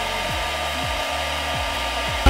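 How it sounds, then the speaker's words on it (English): A handheld blow dryer warms hair gel or glue on a wig closure to make it tacky, giving a steady, close, continuous airy whir that runs the whole time without talk. "Gonna go ahead and use my blow dryer just to make the gel or glue"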